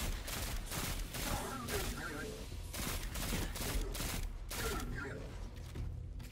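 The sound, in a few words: grenade launcher firing in the video game Destiny 2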